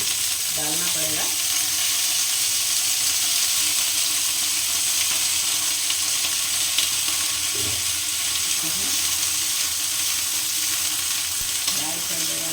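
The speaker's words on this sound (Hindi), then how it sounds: "यहाँ पर हमने गोभी को फ्राई कर दे रही हूँ अच्छे से।" Cauliflower fries in oil in a pan with a continuous loud sizzle, occasional scraping stirs and a few brief clattery bumps, no one speaking.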